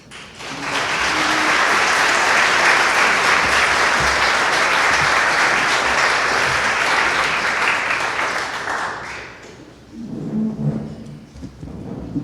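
An audience bursts into loud, sustained applause welcoming a speaker at a forum, the clapping holding steady for about nine seconds before dying away into faint room sounds and a few stray claps.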